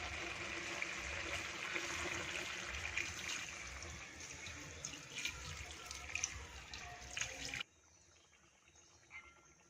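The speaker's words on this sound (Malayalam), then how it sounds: "ഇനി ഇതിലേക്ക് നമുക്ക് 1-ാം പാൽ ഒഴിച്ച് കൊടുക്കാവേ." First coconut milk pours into a simmering fish molee in a steady, trickling stream for several seconds, then stops abruptly, leaving near silence.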